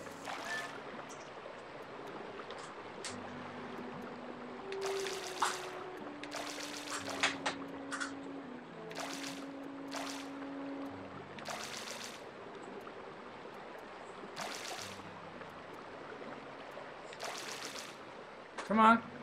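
A waterfall and flowing water in the Twilight Princess video game make a steady rushing wash throughout, moderately loud, with soft game music tones and occasional splashes and clicks over it.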